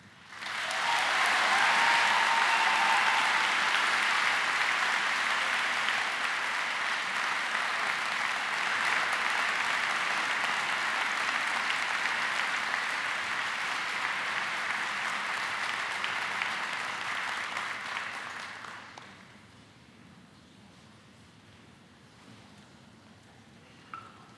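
A large commencement audience applauds at a university graduation ceremony, a long, even roar of clapping that holds steady for most of the stretch, then drops off sharply to near quiet.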